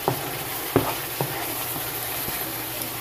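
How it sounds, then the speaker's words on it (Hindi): Walnut halwa made with milk and milk powder roasts quietly in a pan, a faint steady sizzle broken by a few soft scrapes and knocks of a spoon stirring. "जब आप इसकी भुनाई कर रहे हो तो चम्मच हिलाते जाइएगा हर तरफ से, ताकि ये नीचे ना लगे।"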